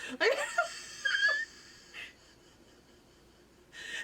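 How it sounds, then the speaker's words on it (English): A sleeping cat gives a couple of close, wheezy snorts and squeaky snuffles in the first second and a half, then goes quiet apart from a faint breathy snuffle near the end. "She squeaks and snorts and rolls over and snores."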